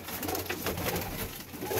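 Pigeons coo softly and continuously in a home loft, a low rolling call up close with light rustling in the background.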